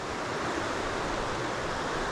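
Water of the River Twiss runs steadily over boulders, a dense, continuous rushing wash heard close and alone, with no breaks.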